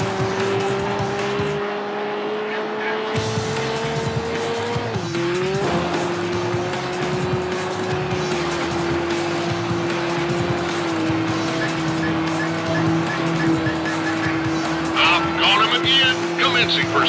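A Ferrari 360 Spider races in the video game Need for Speed: Hot Pursuit 2, its engine a loud, steady high-revving drone with a brief pitch dip and tire squeal, while police radio chatter runs over it throughout.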